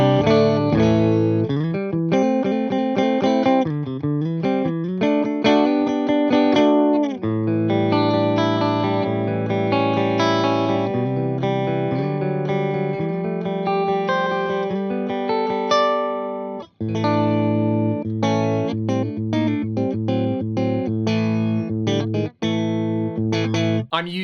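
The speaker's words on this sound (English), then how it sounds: "what you're gonna hear at the moment is just the sound of the amp mic'd up" Electric guitar in the middle pickup position with coil split, bright and twangy, played through a Fender Deluxe Reverb amp miked with a Sennheiser E609; a continuous run of loud picked notes and chords, no talk.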